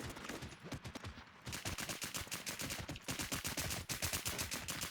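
Rapid automatic gunfire from the online survival shooter WarZ, dense bursts of close, loud shots firing almost continuously with only a brief pause early on.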